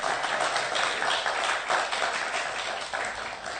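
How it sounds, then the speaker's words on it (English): A roomful of people at a Janmashtami class claps for a child, giving brisk, uneven, dense applause that swells and fades slightly over a few seconds. "Round of applause, please."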